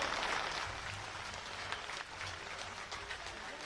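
Crowd applause at a Lok Sabha election rally welcome, steady distant clapping from a large outdoor gathering, fairly faint and continuous throughout.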